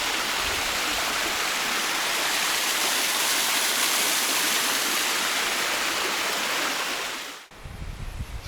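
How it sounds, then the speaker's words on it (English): Steady roaring rush of a waterfall feeding a small creek on a clifftop hike in the Blue Mountains, loud and continuous for several seconds before breaking off into wind-buffeted handling noise. "But there's the waterfall directly."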